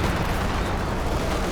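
Continuous loud battle din from Company of Heroes 2, with anti-tank gun fire blending into a dense wash of cannon blasts and explosions, no single shot standing apart.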